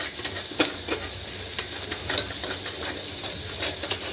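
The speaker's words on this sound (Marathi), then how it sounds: "ते आपण तेलात टाकलेलं आहे ते आपण मस्त असं फ्राय करून घेऊया" Garlic cloves and chopped coriander frying in hot oil, a steady sizzle with scattered soft scraping taps from stirring, close and moderately loud, no talking.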